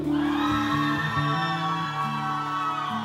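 Church congregation cheering and whooping for Theo at his Sunday baptism service, a dense crowd roar with shouts and whoops sustained loudly throughout.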